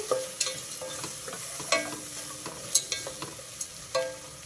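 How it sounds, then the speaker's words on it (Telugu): Onions fry with a pinch of salt in a hot pan, a soft steady sizzle broken by irregular scrapes and clinks of a spoon stirring them. "ఇప్పుడు ఇది ఉల్లిపాయలు వేగడం కోసం కొంచెం ఉప్పు వేసుకుంటున్నా తొందరగా వేగిపోతాయి ఉల్లిపాయలు ఒకసారి కలిపేసి"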